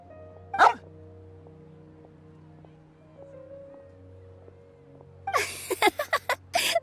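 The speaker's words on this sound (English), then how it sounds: "Ah, that's Swuff. Don't worry, he's a good dog." A dog named Swuff gives a short bark, then after a quiet stretch of low humming ambience lets out a loud rapid series of four or five close barks near the end.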